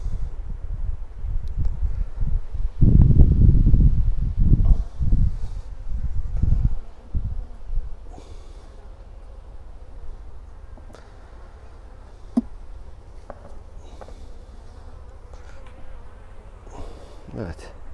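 Honeybees hum and buzz steadily around an opened hive during an inspection of a productive split colony with a laying queen, the drone strongest early on and then softer, with occasional brief handling knocks.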